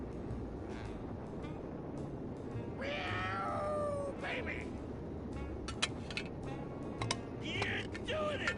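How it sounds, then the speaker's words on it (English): Cat meows from the video game Grim Fandango Remastered, a few short plaintive cries standing out over a steady bed of game music and ambience, with a voice speaking across much of the scene. "Get up, you stupid cat!"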